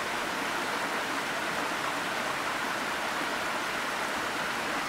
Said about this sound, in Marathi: मेघालय राज्यातील सर्वात लोकप्रिय पर्यटन स्थळांपैकी एक म्हणजे नोहकालिकाई धबधबा आणि पर्यटकांसाठी चित्तथरारक आहे.